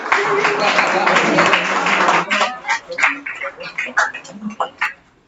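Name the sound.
students clapping after presentation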